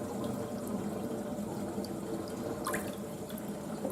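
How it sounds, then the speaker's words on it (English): Water draining off freshly washed food in a kitchen sink, a steady near trickle and splash running continuously with no pauses or talk. "So okay, I'll just let that water go."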